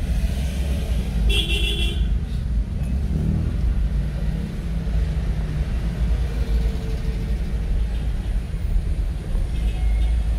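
Street traffic rumbles steadily close by, and a car horn gives a short toot early on over the continuous low drone of passing vehicles.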